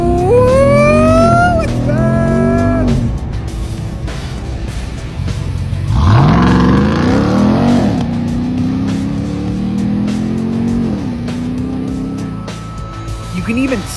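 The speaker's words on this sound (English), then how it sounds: "you can hit the launch control button and do 0 to 60 in about 4 seconds." A supercharged V8 Ram TRX pickup launching hard from a stop, its engine revving high and climbing through several gear shifts in a loud, close, sustained roar.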